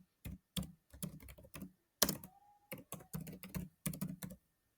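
Keystrokes on a computer keyboard come in quick bursts of clicks with short pauses, close and clear, as an email subject line and message are typed, with no voices.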